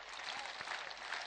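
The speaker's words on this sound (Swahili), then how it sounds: "Tumpigie makofi." Crowd at an outdoor political rally bursting into applause, a dense steady wash of many hands clapping at a distance, with no talk over it.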